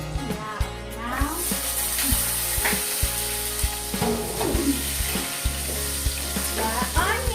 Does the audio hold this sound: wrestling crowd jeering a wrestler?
no